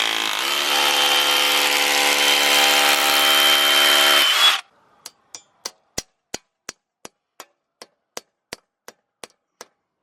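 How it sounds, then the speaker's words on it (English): A hammer drill bores anchor holes into a masonry sidewall during a rubber roof install, a loud steady whirring for about four seconds before stopping. About a dozen sharp, evenly spaced knocks follow in a regular rhythm. "Since this is masonry sidewall, we're going to install these anchors. We'll have a hammer drill into it."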